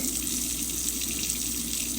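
Hot tap water runs steadily into a measuring container in a home kitchen while bread is being made, a continuous close-up rushing splash with no voices.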